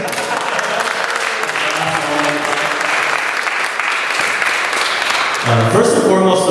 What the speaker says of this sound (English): I'm going to give us a round of applause.